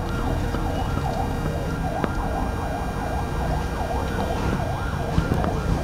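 An ambulance siren wails in a steady repeating up-and-down pattern as the vehicle passes, loud and continuous over constant road and traffic noise, with no talk.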